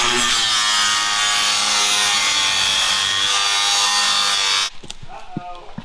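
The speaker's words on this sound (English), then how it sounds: "I'm trying to cut this outer pulley off because I don't need it" A hand saw cutting off an outer metal pulley on a custom Bronco drive shaft build, a loud continuous rasping stroke for several seconds that stops, followed by a few scattered knocks.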